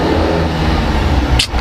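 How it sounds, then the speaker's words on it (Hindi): A Tata car engine revs and accelerates in first gear, a loud, steady, droning roar with heavy low rumble that holds throughout and ends with a brief sharp hiss near the close. "काफ़ी ज़्यादा नॉइस है फर्स्ट गियर में"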